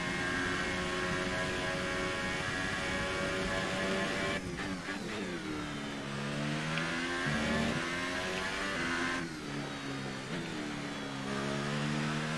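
Simulated Formula 1 car engine from F1 2018 on a flying qualifying lap at Australia, a loud continuous high-revving whine rising and falling through gear changes, with sweeps of acceleration and downshifts, no talking.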